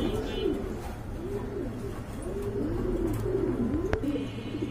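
Fancy pigeons cooing in repeated soft, rolling calls at a steady rhythm, several coos in a row from a nearby bird amid low background noise in a pigeon market.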